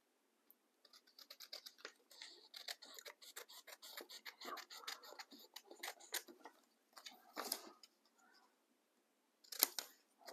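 Scissors snip through a paper model of the National Mall along its edge in a quiet room, making a series of close, quick, crisp cuts with brief pauses between them.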